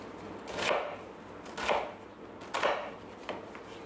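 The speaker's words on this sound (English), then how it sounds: "grams of onion cut into 1 centimetre wedges" A knife chops onion into one-centimetre wedges on a board, three or four separate cuts at a slow, even pace, fairly quiet and close, with no talking.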